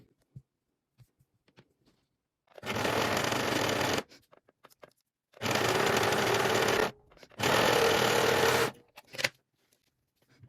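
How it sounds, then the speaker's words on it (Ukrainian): An overlock serger stitches front garment pieces of a longsleeve shirt together, running in three steady bursts of about one to two seconds each, separated by short pauses and faint handling clicks. "І тоді будемо зараз з'єднувати на оверлоці нашу, наші передні деталі"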